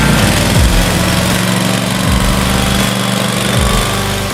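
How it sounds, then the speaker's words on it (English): A Titan 530 propane-powered 21-inch monodirectional, fully gear-driven floor grinder runs loud and close, a steady engine drone with periodic pitch sweeps as the load shifts, and no talking. "The exclusive 21-inch Propane monodirectional floor grinder,"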